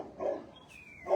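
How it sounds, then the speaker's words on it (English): Dogs bark in a small village at Fisherhaven, a couple of faint, brief yaps with distant background noise. "you will always hear dogs"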